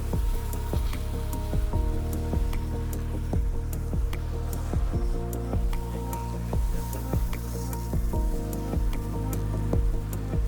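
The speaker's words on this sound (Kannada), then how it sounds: "ಹಲವು ದಿಕ್ಕುಗಳಿಂದ ಹೆಚ್ಚು ಜೋರಾಗಿ ನೀರು ಸಿಂಪಡಿಸಲಾಗುತ್ತೆ ಆರರಿಂದ ಏಳು ದೊಡ್ಡ ಬ್ರಷ್ಗಳ ಗುಚ್ಛಗಳು ಕೆಲಸ ಮಾಡಲಾರಂಭಿಸುತ್ತವೆ" Bengaluru metro train in an automatic wash, with high-pressure water sprayed from many directions and six or seven large brush clusters working. A constant spraying hiss and patter runs throughout, joined by repeated soft thumps and swishes over a steady machine hum.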